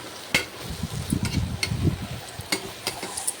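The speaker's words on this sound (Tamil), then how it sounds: "மஷ்ரூமை நல்லா வதக்கிக்கோங்க." Chopped mushrooms sautéing in a pan with masala paste for coconut milk mushroom pulao, with a steady soft sizzle under a few sharp clicks and scrapes of a spoon stirring, close by and without talk.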